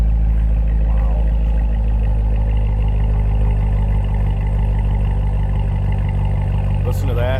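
A deep, throaty 2016 Chevrolet Corvette Z06 with a supercharged LT4 engine idles steadily with a heavy low rumble, close by, ending with a brief rev and a faint click.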